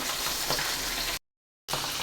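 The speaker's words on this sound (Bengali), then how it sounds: "মাছটা উল্টে দিচ্ছি।" Pabda fish sizzles and crackles steadily in hot oil in a pan, a dense, close frying hiss that cuts off abruptly into a brief silence before resuming.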